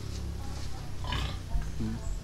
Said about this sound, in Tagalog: yung paalaga kong baboy. Laki.